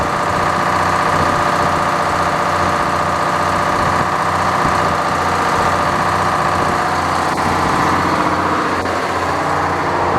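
A truck engine idles steadily to build air pressure, a loud, constant rumble with a fine vibrating hum and a couple of faint clicks near the end, and no talk over it.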